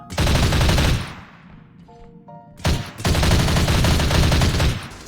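The Beast Minigun in a R.E.P.O. video game mod fires two long, loud continuous bursts of rapid rattling fire. A short lull between them carries faint mechanical tones and a whirring spin-down.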